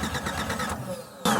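A 4x4 truck engine being cranked, with a rhythmic churning starter grind for about a second, a brief dip, then a sudden louder burst as it catches.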